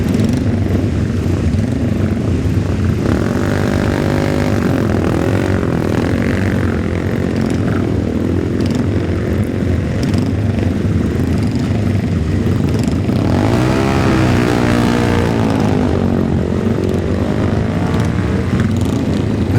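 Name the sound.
racing motorcycles at the Senior Classic TT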